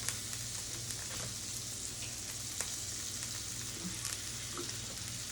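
Chicken pieces fry in butter and oil in a pan for chicken piccata, giving a soft, steady, close sizzle with scattered small pops and no talking.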